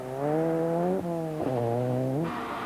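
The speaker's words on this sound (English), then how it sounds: "gave an object lesson in a handbrake turn" Rally car on a gravel stage at the 1989 Trossachs Rally, engine note loud and close with a strong harmonic whine that dips sharply twice as it swings through a handbrake turn, then fades into rushing noise.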